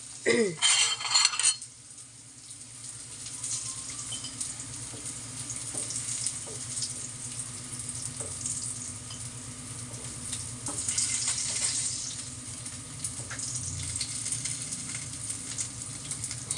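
Labahita, a surgeonfish, fries in hot oil for pakbet, a low steady sizzle running throughout, with a burst of clattering utensils at the start and occasional soft pan clinks.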